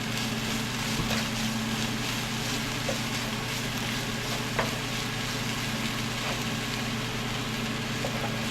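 Ground pork with jalapeno and prohok stir-frying in a pan, a loud continuous sizzle with steady hiss, faint stirring scrapes and a low background hum throughout.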